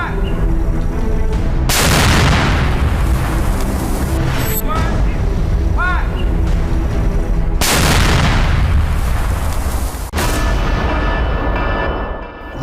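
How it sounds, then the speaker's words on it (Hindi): Loud, dense battle noise from a Naxal attack in Bijapur, Chhattisgarh: heavy booming blasts at intervals over continuous gunfire and rumble, with a brief whistling streak in the middle, sustained and close throughout. "नक्सलियों के खिलाफ सबसे बड़ी लड़ाई ऐसे ही एक धमाके के साथ शुरू होती है"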